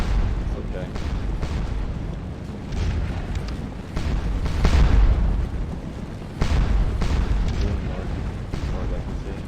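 Artillery in a Waterloo battle game booms in heavy, rumbling blasts that overlap into a continuous roar of cannon fire, loud and close, rising to a peak midway.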